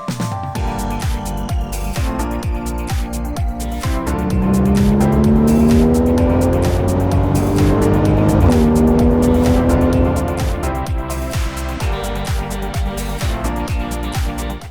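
A 2013 Porsche Cayman S with a 3.4 litre engine under way, a loud close engine note rising steadily through the revs, dipping at a gear change, then climbing again over constant road noise.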